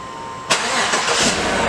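A car engine cranks and catches in a lab bay, a sharp start after a quiet moment followed by a steady, fairly loud running engine.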